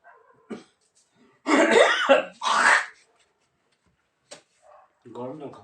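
A few harsh coughs and throat-clearing bursts close by, separated by quiet pauses, with brief speech near the end.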